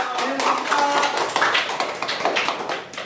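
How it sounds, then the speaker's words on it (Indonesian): A classroom group claps hands together, a dense scatter of sharp claps mixed with voices and chatter for a few seconds. "Tepuk tangan dulu dong."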